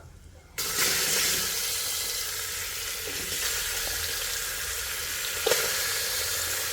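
Mutton pieces hit a hot pan and break into loud, steady sizzling that holds without a break, with a small clatter near the end and nobody speaking.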